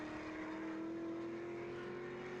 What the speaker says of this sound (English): Jimmy Vernon's pushing pretty hard at the moment in the Class C car